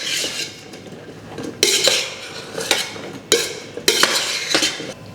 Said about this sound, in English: Gently stirring that now to combine.